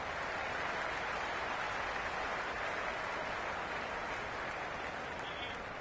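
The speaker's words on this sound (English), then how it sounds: "The crowd are really getting quite raucous." Stadium crowd in the cricket video game Cricket 26 at a Big Bash League match, Sydney Sixers vs Brisbane Heat, a steady loud roar of cheering and applause that fills the whole stretch without letting up.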